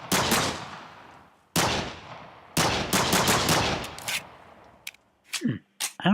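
N9 handgun from a Minecraft guns mod firing in sharp, loud bursts of repeated shots with short gaps between volleys, followed by brief voiced exclamations near the end.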